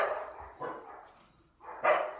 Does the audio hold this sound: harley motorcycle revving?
no